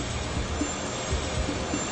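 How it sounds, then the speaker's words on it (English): Jet engine noise from Air Florida Flight 90 during takeoff comes as a steady, broadband roar that stays constant and somewhat muffled throughout, with no voices. "compares the sound of his test flight to the engine noise captured during Flight 90's takeoff"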